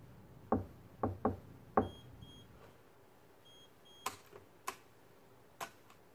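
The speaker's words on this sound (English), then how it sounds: "Now I will attempt to unlock the door with the true knock key." Knocks on a door fitted with a vibration-sensing lock: a pattern of four sharp raps, two close together in the middle, followed by a few quieter taps and faint electronic beeps, with no talking.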